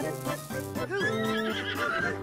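A golden horse in the Tears of the Kingdom video game gives a loud whinnying neigh over clip-clopping hooves, close and clear with no talking.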